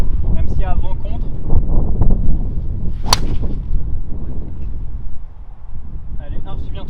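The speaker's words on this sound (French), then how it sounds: "On va essayer de mettre driver en draw, assez haut, même s'il y a vent contre." A golf driver tee shot played as a high draw into a headwind on the seaside Golf de Ploemeur-Océan course gives one sharp, close crack of the clubhead, with wind buffeting the microphone and people talking before and after.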